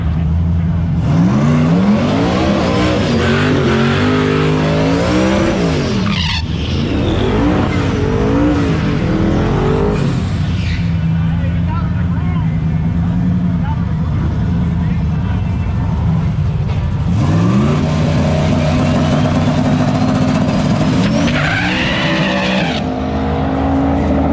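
A turbocharged 427 Cadillac CTS-V launches on a track with a loud engine roar, rising revs and tire noise, then roars again as it accelerates a second time, with people talking over it.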